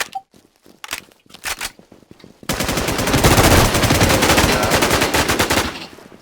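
Sustained rapid gunfire from the survival shooter Infestation, set in Rocky Ford, opening with a few sharp separate shots and then a loud automatic burst lasting about three seconds before cutting off.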